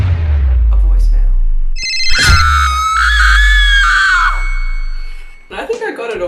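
A phone ringtone for an incoming voicemail: a loud electronic melodic tone that sustains for a couple of seconds before trailing off, set among other loud sounds and followed by voices.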